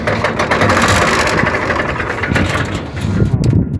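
A 1991 URSUS C-360 tractor engine idles nearby with a steady, loud diesel rumble and knock, running continuously before it is shut off, with a voice speaking over it.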